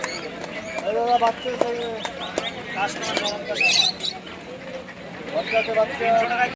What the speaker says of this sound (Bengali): মেধে হাটে কিং পায়রা এসছে আজ পোল্টার কিং বড় বড় সাইজে